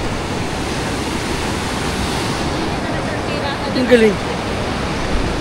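Sea waves wash steadily onto the shore in a continuous broadband roar, with a short spoken exclamation partway through.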